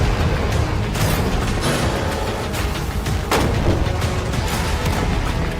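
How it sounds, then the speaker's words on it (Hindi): Gunshots are fired outdoors at a shipping container, heard as a dense run of loud, booming reports with little pause between them. No one talks during the firing. "पर पहले बाकी शॉट्स फायर कर लेते हैं।"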